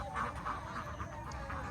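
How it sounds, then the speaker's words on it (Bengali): Domestic ducks kept on a riverbank quack in short, repeated nasal calls at moderate distance, several quacks in quick succession over a soft outdoor background. "নদীর পাড়ে এখানে হাঁস পালে, অসাধারণ।"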